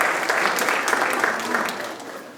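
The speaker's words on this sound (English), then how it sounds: "ladies and gentlemen, if we can do a big round of applause for those three there" An audience at a dance event's inauguration and lamp-lighting ceremony claps loudly, a full round of applause that holds strong and then slowly thins toward the end.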